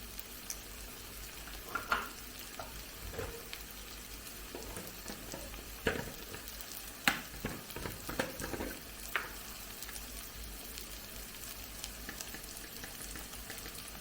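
Chili, turmeric and coriander powders are stirred and fried in a pan for an egg masala, with a soft low sizzle and scattered scraping and tapping strokes from the spoon throughout.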